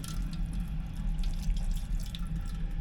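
Tap water runs steadily into a small sink in a night-train toilet, a continuous close splashing stream with a few drips on top and no voices.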